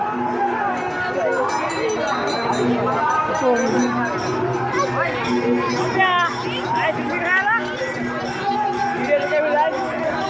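A large crowd packs a village fair market near a temple, a dense, continuous babble of many voices and shuffling movement close by, with nearby talk over it throughout.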